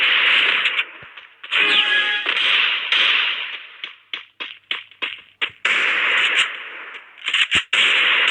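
Gunfire in the Free Fire video game, with sharp shots cracking out singly and in quick clusters, the busiest stretch in the middle, over a continuous bright hissing game background.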